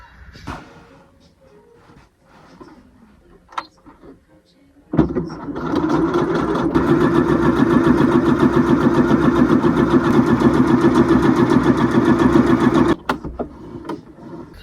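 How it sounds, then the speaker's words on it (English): Domestic sewing machine stitching straight lines on the reverse of upcycled clothing, a loud close continuous motor whir lasting about eight seconds after some quiet handling and soft talk. "on the reverse, you literally just want to sew down these lines"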